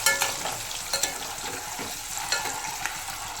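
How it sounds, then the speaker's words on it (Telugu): Eggs frying in oil in a pan give a steady, close sizzle, broken by soft scraping and clinks from occasional stirring. "గుడ్లన్నీ చక్కగా వేయించుకోవాలి. ఇలా వేయించుకోవాలి నూనెలో,"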